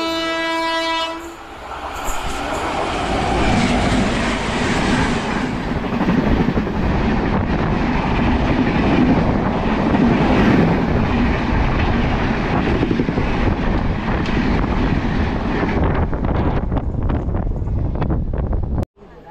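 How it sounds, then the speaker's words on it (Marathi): The Konkan Kanya Express passes close by, opening with a loud horn blast and followed by a sustained heavy rumble and rattle of wagons with wind buffeting the microphone, ending abruptly. "कोकण कन्या एक्सप्रेस आलेली आहे आणि आता ही आमच्यापेक्षा पुढे जाणार आहे"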